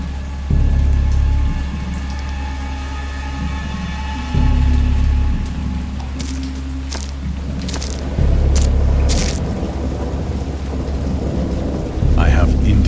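A thunderstorm with steady rain pattering on surfaces, broken by repeated deep thunder rumbles that swell and roll roughly every four seconds, loud and close.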